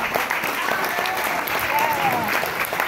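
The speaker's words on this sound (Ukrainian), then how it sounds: "Давайте ще раз оплесками ми привітаємо нашу школу мистецтв" An audience claps at a 25th anniversary concert for an art school in Vynnyky, with continuous, even applause filling the hall from start to finish.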